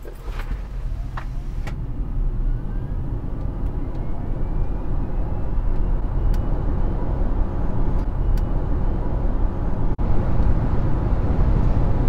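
A Hyundai Ioniq 5 electric car, over two tonnes, accelerates hard on the road, giving a steady loud rush of road and wind noise that builds with a faint rising electric whine, with no talk.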